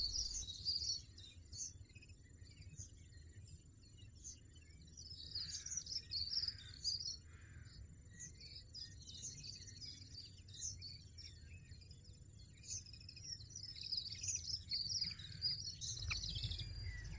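European goldfinch chicks calling in the wild, faint high-pitched chirps coming in scattered bursts over a soft insect hum and low background noise.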